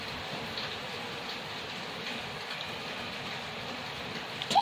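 Rain falls steadily outside while a children's canvas painting session goes on indoors, a continuous soft wash of patter that holds even and constant throughout.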